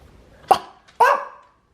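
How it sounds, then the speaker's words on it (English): A dog gives two short, sharp barks about half a second apart, the second fuller and longer, close by in a quiet indoor room at home. "I now present to you noises my dog makes."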